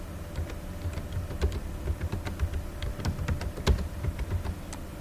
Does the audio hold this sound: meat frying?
no